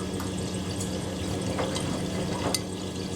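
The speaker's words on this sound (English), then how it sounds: "It's like one profile burst and then we fill for the rinse." Water rushes steadily into a Miele W Classic washing machine drum as it fills for the rinse, a continuous close hiss with no voices.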